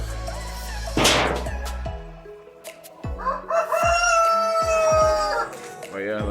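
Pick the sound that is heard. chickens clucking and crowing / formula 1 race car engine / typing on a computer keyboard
chickens clucking and crowing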